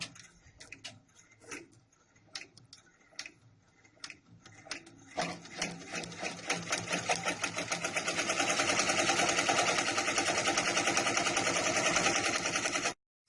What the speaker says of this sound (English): now we'll go ahead and stitch the satin stitch